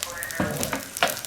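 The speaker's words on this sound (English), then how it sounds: "take my friend Mr. Wooden Spoon and just kind of move it around a little bit" A wooden spoon moves through a sizzling kale and potato soup base in a pot, giving a brief crackle of frying with a few soft scraping stirs.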